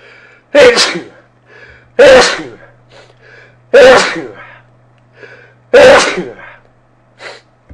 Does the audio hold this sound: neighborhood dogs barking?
no